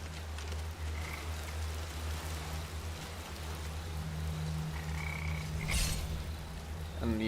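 Frogs croak steadily in a video game's watery dungeon, a low continuous chorus with occasional higher chirps, mixed with dripping, rain-like ambience and no talk.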